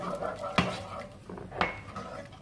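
A spoon stirs milk and spices in a metal pot, giving two sharp clinks against the pot's side amid soft scraping and sloshing, with faint background voice.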